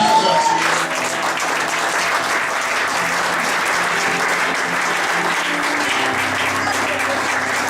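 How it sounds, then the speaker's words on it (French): A church congregation applauds for Jesus during a French-language sermon, with sustained, loud clapping from a crowd filling the room for several seconds. "Quelqu'un acclame à Jésus"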